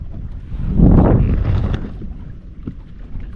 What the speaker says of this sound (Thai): เก้าโมงเองวะเน่ะลมมาแล้วมาเร็วเกิน